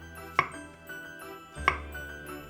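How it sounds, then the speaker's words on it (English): A knife chops Chinese cabbage leaves into chunks on a board, two sharp, separate cuts about a second apart, close and clear, with a faint hum between them. "Cut into chunks 3 Chinese cabbage leaves, 100 grams of Paris mushrooms"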